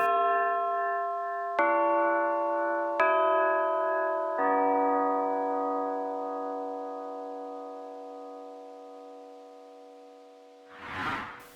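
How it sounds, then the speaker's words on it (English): A sampled blade played like a bell in the GR Mega engine sampler rings out in three or four struck notes, each a bright metallic chime that sustains and slowly decays, followed by a brief breathy swell at the end. "I've also used the engine sampler to be able to play my blade more like a bell."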